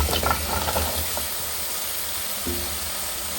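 Pieces of bottle gourd go into a pan of frying rui fish curry, bringing a burst of sizzling and stirring at first that settles into a softer, steady hiss.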